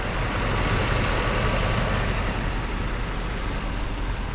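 A 1999 Mercedes S500 W140 idles with its headlights and air conditioning on, giving a steady, close, even engine hum with no voices.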